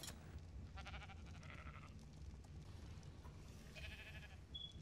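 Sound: sheep bleating in video game Ark Survival Evolved

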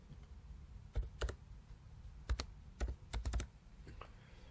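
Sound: typing a multi-factor authentication code on a computer keyboard

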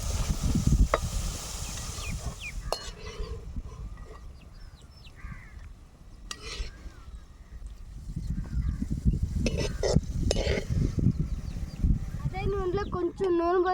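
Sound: ingredients frying in a pan for nalleru chutney

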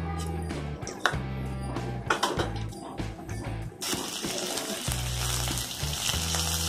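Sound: mustard seeds and urad dal frying in oil

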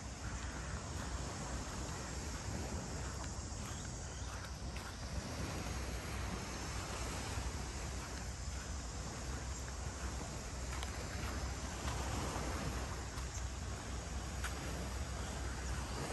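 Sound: sea waves on resort beach, Phu Quoc

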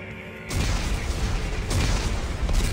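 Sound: detonated explosives blast, Dead Space 3 video game

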